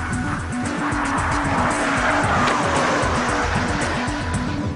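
A race car driven hard, its engine revving in a loud, rhythmic pattern while the tires squeal and skid continuously, close and without speech.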